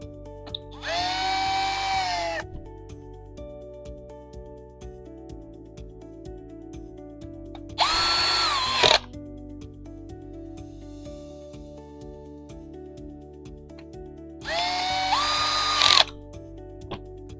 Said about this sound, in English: And using the T20 bit again, screw the board back in place.